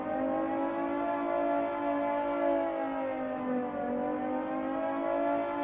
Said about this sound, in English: Ugh, now we get to deal with the siren.